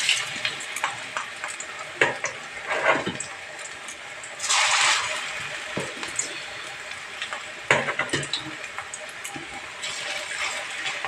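Small fritters of coriander-leaf (dhone pata) batter fry in a pan with a steady, fairly close sizzle, broken by scraping and stirring clatter and a louder hissing burst midway.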